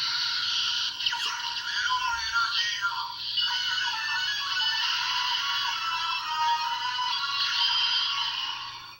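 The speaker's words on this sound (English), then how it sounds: "What you heard was the Henshin sound effects." Electronic transformation sound effects from a DX Genesis Driver toy belt: a loud, continuous bright synthesized tone with sweeping, warbling overlays that runs for about nine seconds with no talking.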